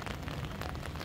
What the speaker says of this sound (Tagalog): Hinabot na ako ng ulan.